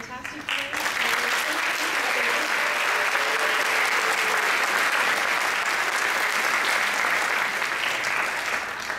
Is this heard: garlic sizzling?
no